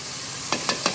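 Garlic dropped into hot oil for a restaurant-style potato curry (aloo dum) gives a steady sizzle, with three brief bursts of louder crackling near the end.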